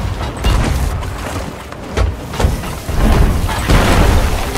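Heavy booming cannon fire during a ship battle in Sea of Thieves, a dense low rumble with several thudding blasts over a few seconds, loud and close.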